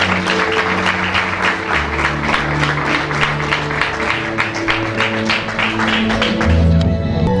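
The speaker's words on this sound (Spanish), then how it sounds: "lo recibimos con un aplauso" A church congregation applauds to welcome a pastor during an evening service, loud sustained clapping over held organ or keyboard chords.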